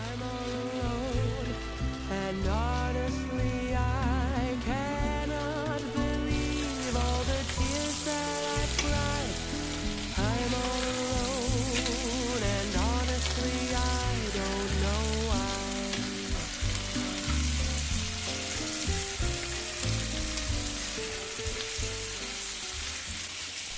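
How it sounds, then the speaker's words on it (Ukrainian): Meat sears on high heat in a pan, giving a steady, crackling sizzle that runs throughout, partly buried under louder melodic background music. "Смажу його з обох боків по декілька хвилин на великому вогні."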